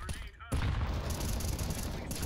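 Rapid gunfire in Counter-Strike 2 on the Office map, a dense burst of overlapping shots that starts suddenly after a short quiet moment and keeps rattling steadily to the end.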